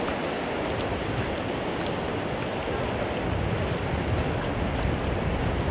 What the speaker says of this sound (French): Regardez mes jolis pieds marcher dans l'eau.